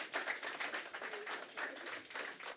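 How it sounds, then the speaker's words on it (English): Seminar audience clapping after presentations, a steady wash of many hands applauding at moderate distance, fairly soft, and trailing off at the end. "Big applause for the very nice presentations."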